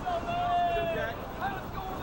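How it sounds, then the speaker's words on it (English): Gale-force wind of 35 to 40 miles per hour roars across a lakeside baseball field, a constant, loud, blustery rush buffeting the microphone, with faint tonal whistles riding on top. "we have to take the wind, and I mean, it is a gale"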